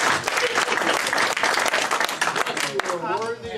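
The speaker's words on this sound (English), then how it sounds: "But I don't know why there was so much applause over here." Loud, dense clapping from a room of amateur radio society members at a club meeting fills the whole stretch, with voices mixed in and a voice rising near the end as the applause thins.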